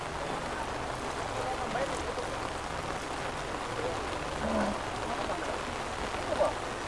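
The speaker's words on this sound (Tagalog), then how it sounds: "humihina ang ulan" Light rain easing off, a soft steady patter heard close by under a few faint incidental noises, with no clear talking.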